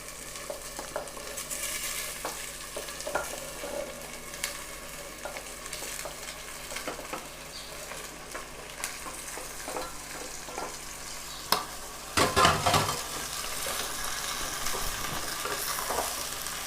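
Boiled chicken stir-fried in oil with onions on a low flame, a steady close sizzle with repeated scraping and stirring clinks of a spatula against the pan, a louder burst near the end.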